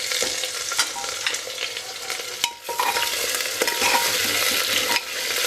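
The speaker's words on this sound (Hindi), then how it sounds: "इनको हम हल्का हल्का फ्राई करेंगे, वेरी लिटिल।" Lotus stem and kohlrabi lightly frying in a pan, giving a continuous crackling sizzle broken by repeated scraping stirs of a spatula, close and fairly loud with no talking.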